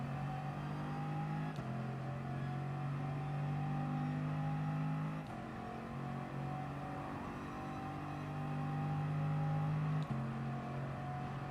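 Race car engines drone continuously in a racing video game at Monza, a sustained close engine tone with a few abrupt pitch shifts as gears change.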